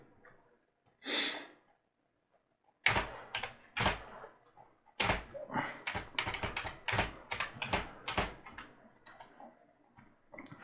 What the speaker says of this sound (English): And now I'm going to put a file name in the file name area. So I'll just type one in.